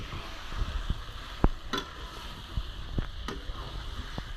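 Chicken pieces fry with a quiet, steady sizzle in a pan while a spoon stirs, giving scattered clicks and scrapes, one sharper knock near the middle, with no talking.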